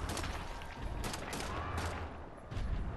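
Single-fire gunshots in Wolfenstein: The New Order, in Deathshead's Compound, crack out as several separate loud reports over about three seconds, with a dense, busy game soundscape underneath.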